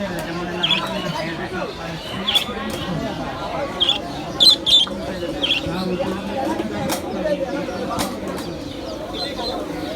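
Chickens cluck and squawk in short bursts amid a busy market crowd murmur, with people talking throughout and occasional flapping.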